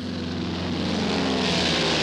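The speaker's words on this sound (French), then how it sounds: "c'est la 2e fois que je monte dans un avion" An airplane in flight produces a loud, continuous engine drone with a steady, rough roar that holds throughout.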